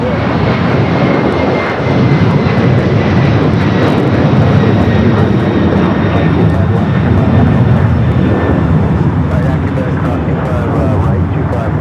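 An airliner bound for Lima, Peru, at LAX fills the air with a loud, steady roar of engines, broad and sustained throughout, while people talk faintly underneath.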